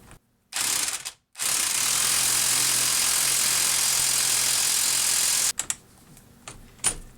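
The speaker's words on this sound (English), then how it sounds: "Okay, now we can loosen up these clamps on here." A ratchet wrench clicks rapidly and loudly while loosening the clamps on a 2013 Toyota Prius V front strut, with two sustained bursts of ratcheting separated by a short pause, then scattered tool knocks.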